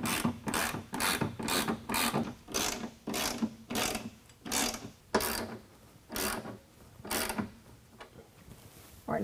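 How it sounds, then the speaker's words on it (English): Ratchet wrench tightening nerf bar bracket bolts on a 2020 Ram 2500 truck, a close series of about a dozen quick clicking bursts in an uneven rhythm with short pauses between strokes. "go ahead and tighten down our brackets and tighten down the bolt to the board"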